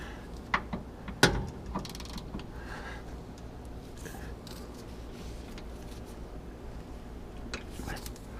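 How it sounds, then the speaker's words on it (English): Torque wrench ratcheting on sway bar bolts during a rear sway bar install on a 5th-gen Chevrolet Camaro ZL1, with a sharp click near the start followed by quieter repeated ratchet clicks and faint mechanical creaks. "Got the torque wrench here. Got it set to 43 foot-pounds. We're going to go ahead and tighten these up."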